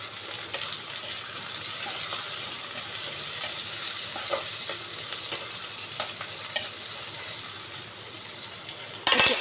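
Tomato and potato pieces fry in a pan, giving a steady close sizzle with light stirring clicks and a louder scrape at the end; no one speaks.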